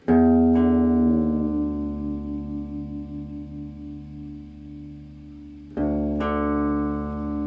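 Two plucked guitar notes, both tuned to D in drop D tuning, ring out in sustained octaves, decaying slowly; a second pluck near the end restarts the pair, loud and close with steady harmonic tone.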